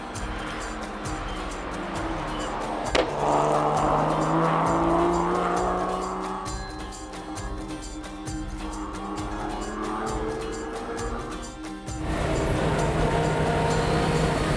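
Carrera Panamericana rally cars coming down a mountain road from high altitude, engines droning steadily with gliding pitch as they shift and brake, loud and continuous with a constant wash of wind and road noise and a sharp click near the start.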